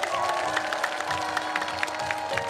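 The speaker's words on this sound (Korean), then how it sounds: "박수로 하나님께 영광 돌리도록 하겠습니다" Rally crowd applauding together at a peace demonstration outside Seoul City Hall, a steady mid-distance clatter of many hands with faint cheering, sustained and even throughout.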